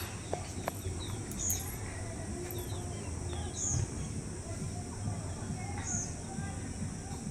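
Distant birds chirp and call intermittently over a steady background hum, a few short whistled notes standing out now and then.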